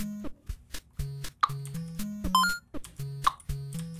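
Looping background music from a Unity 2D game, made of soft plucky tones in a bouncy rhythm with occasional bright chimes, fairly quiet and playing alone.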